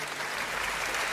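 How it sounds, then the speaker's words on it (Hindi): Dense audience clapping at a Hindi kavi sammelan poetry recital, a thick, continuous wash of applause lasting just over a second, fairly loud and uninterrupted by talk. "तालियां थोड़ा सा, हाँ थोड़ा सा मस्ती में बजाओ"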